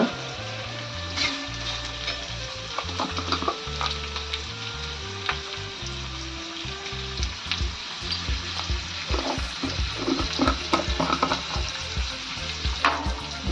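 Asafoetida sizzles steadily in hot oil in a pan while being stirred for an onion-tomato bhaji, with a constant close frying hiss and scattered scraping clicks of the spoon under a low tonal hum.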